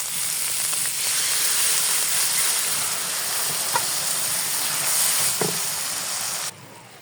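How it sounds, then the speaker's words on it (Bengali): Water poured into a pan of frying garlic, onion, turmeric and chili paste, giving a loud continuous hiss and sizzle with scattered pops that cuts off abruptly near the end. "এখন আমি পানি দিয়ে দেবো।"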